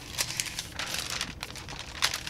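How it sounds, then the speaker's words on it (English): Giant rolling paper pulled from a record's gatefold sleeve crinkles and rustles close up in a steady run of crisp bursts, with no voices. "giant rolling paper in case you want to roll yourself a great big joint and listen to this album."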